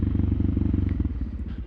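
Suzuki DR650 single-cylinder motorcycle turning at low speed, a steady, close thumping idle-like putter with even, rapid pulses, heard alone without talk.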